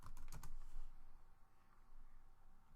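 Someone types a Google search on a computer keyboard, a quick flurry of close, crisp keystrokes at the start followed by a quiet hum.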